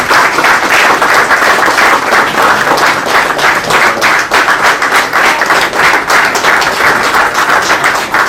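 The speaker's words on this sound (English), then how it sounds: "give him a big round of applause." An audience at a fraternity gathering gives a keynote speaker a big round of applause: loud, close, dense clapping with a busy rhythm of many hands that carries on evenly for about eight seconds.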